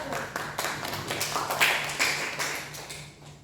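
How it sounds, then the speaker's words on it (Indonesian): A classroom of students claps for a presenting group, a fairly quiet spread of scattered hand claps with a faint steady hum beneath, no talking. "beri tepuk tangan kepada kelompok 1"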